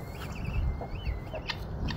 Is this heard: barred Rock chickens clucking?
yes